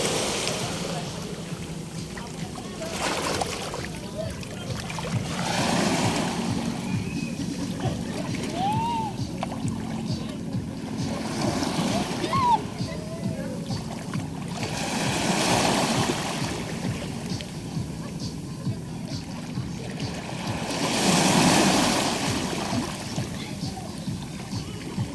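Ocean surf rolls onto a beach at a Zambales resort, with soft swells of washing water rising and falling every several seconds under a constant low murmur and faint background voices.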